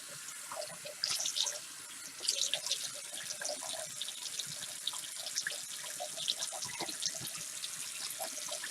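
Hot water running from a tap into a sink while makeup brushes are rinsed, a steady splashing stream with brief sloshing surges, close and moderately loud with no talk.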